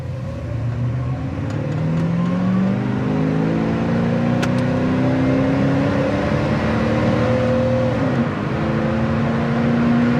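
A 1979 Chevrolet Camaro Z28 V8 runs through the gears, engine pitch climbing steadily, dropping at each shift, then rising again, loud and close throughout with no talk.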